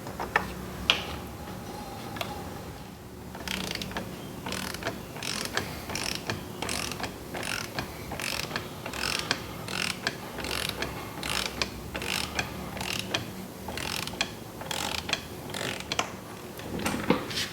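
Clutch parts on a Harley twin cam 110 motorcycle with a bad clutch hub bearing and damaged basket being broken loose, giving a steady run of close mechanical ratcheting clicks and metallic ticks that continue throughout.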